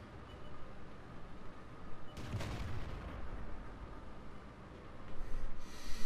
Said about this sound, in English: Exchange of high explosive fire hits nobody